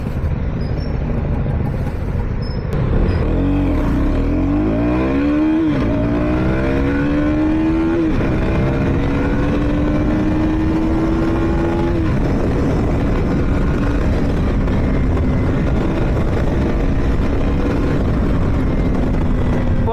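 A KTM Duke 250 Gen3 motorcycle engine running just after its first service, loud and close, with a steady rumble and several rising revs whose pitch sweeps upward before settling into a sustained drone.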